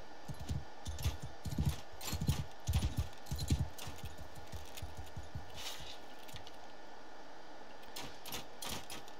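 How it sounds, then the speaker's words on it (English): Horses gallop in a cavalry charge in the video game Mount & Blade II: Bannerlord, with rhythmic hoof thumps bunched in bursts near the start that fade into a busy battle din. "Horses! Forward!"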